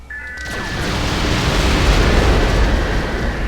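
A loud, close explosion booms in the Descent 3 space shooter, a heavy rumbling blast that swells and lingers with a crackling tail for several seconds.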